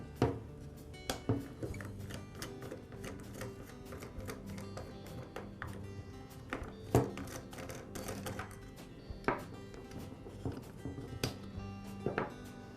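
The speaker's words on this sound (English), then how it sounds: "I'll begin by removing the bump head knob and the spool." Bump head knob and spool being pulled off a Ryobi string trimmer, heard as soft, scattered plastic clicks and taps, close and quiet, with no voices.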